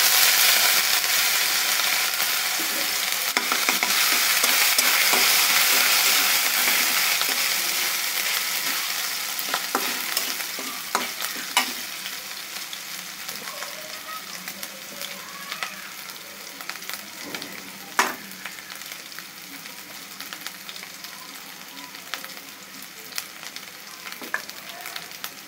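Ginger frying in hot oil for a radish greens dish gives a loud, continuous sizzle that gradually softens, broken by scattered clicks and scrapes of a stirring spoon, close by with no talking.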